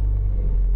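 Honda Civic engine idling just after being started, a steady low rumble held at constant level throughout, close by with no voices.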